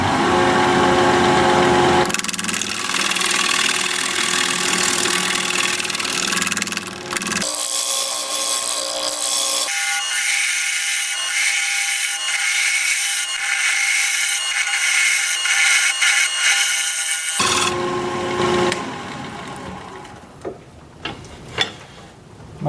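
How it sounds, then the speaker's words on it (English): A wood lathe turns a bowl while a shear scraper works its side, making a steady, loud rasping hiss over the machine's hum. The texture shifts partway through, and a few light knocks come near the end. "I'm going to shear scrape the side here, clean up my cuts a little bit before we get rid of the center."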